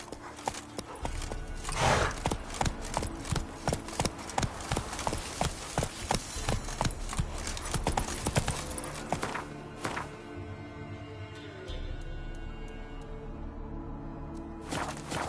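Horse hooves gallop in The Witcher 3 video game with rapid, steady clip-clopping close by, the rhythm loosening and thinning toward the end, with a brief whinny-like sound in the mix.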